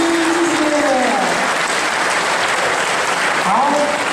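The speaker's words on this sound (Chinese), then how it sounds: "所有的七位同学 掌声鼓励。" Loud, dense audience applause for seven high school students from Jingwen High School after their performance, a continuous roar of clapping with a voice rising over it near the start and again near the end.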